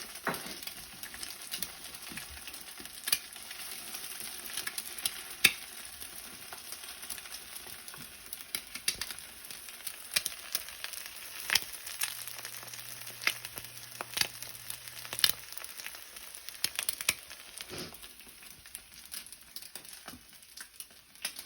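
A pancake and egg fry together in a pan, giving a soft, steady sizzle with faint crackles and occasional light scrapes, quiet and unbroken by talk.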